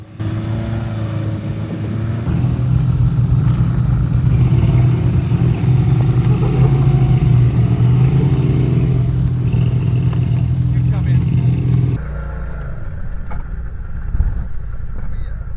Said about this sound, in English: my wife did a good job right here, driving up these series of ledges, and this crack here